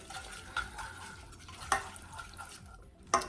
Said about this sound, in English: Let's give everything a whisk until it's combined